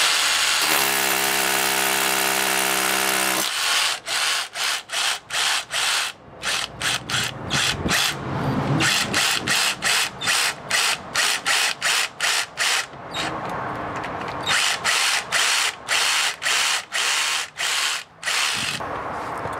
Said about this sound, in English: So I'm going to drill the hole about there